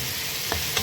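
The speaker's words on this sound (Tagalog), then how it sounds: "Gigisahin lang natin sa kamatis at sa sibuyas, sa kaluya." A short burst of frying sizzle as tomato, onion and ginger are sautéed in a frying pan, with a couple of quick stirring scrapes, close and steady, no voices.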